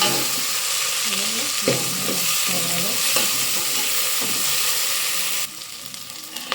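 Ponnaganti greens fry in a pan while being stirred, a steady sizzling hiss with scraping spatula strokes throughout, the sizzle dropping quieter near the end.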